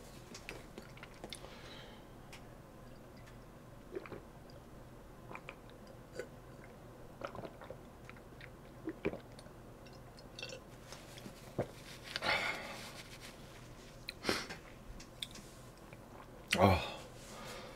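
Soft chewing and biting while eating seafood doenjang stew with barley rice, with intermittent close mouth sounds and a louder crunchy burst near the end.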